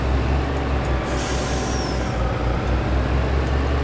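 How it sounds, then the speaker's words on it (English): A train rolls past on the left in Farming Simulator 22 on Alaska land, a steady low rumble with a brief high squeal of brakes or wheels partway through, heard at a distance. "I believe that was a train that just went by."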